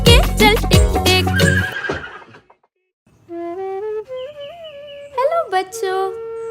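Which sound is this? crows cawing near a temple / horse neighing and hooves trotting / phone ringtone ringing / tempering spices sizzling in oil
horse neighing and hooves trotting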